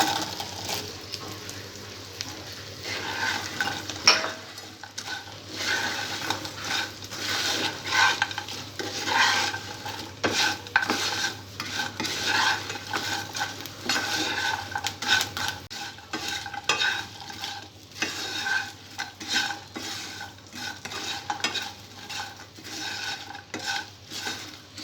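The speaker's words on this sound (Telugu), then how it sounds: "చామదుంప ముక్కల్ని 2 మినిట్స్ బాగా ఈ ఉప్పు కారంలో ఫ్రై చేసుకోవాలి." Taro pieces are stir-fried in a pan with salt and chili, with a spatula scraping and clinking against the pan in busy irregular bursts over a soft, steady sizzle.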